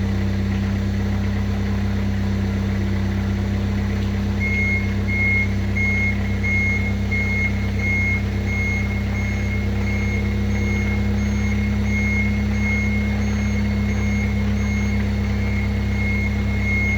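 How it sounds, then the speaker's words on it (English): A stacker truck idles with a steady deep engine drone while a regular reversing beep sounds repeatedly, moving a Scania 143 V8 truck into a garage. "So we finally got the truck in with the stacker truck,"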